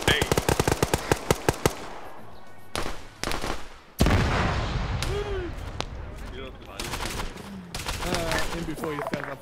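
Rapid bursts of automatic gunfire in a multiplayer shooter game, sharp repeated cracks opening the clip, then heavier blasts and scattered shots mixed with voices talking over the action.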